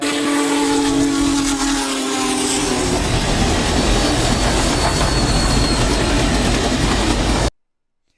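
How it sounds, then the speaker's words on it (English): A loud, continuous rumble and roar of a passing train pulling seven railroad cars, with a steady whistle-like tone early on and wheel noise throughout, ending in an abrupt cutoff. "that was 7 trains right there. Seven cars."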